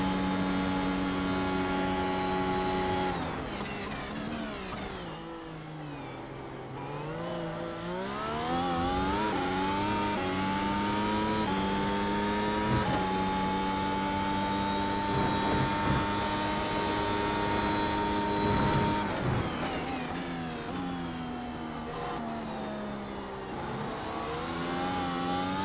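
The 2022 Mercedes AMG F1 W13 Formula One car on track, its engine screaming loud and close in long sustained revs, rising and falling through gear changes and lifts without any talk.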